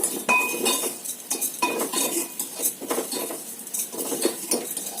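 Vermicelli (semiya) being roasted in a pan over high flame, with a utensil repeatedly scraping and clinking against the metal pan in a steady, busy rhythm, close and fairly loud, no talking.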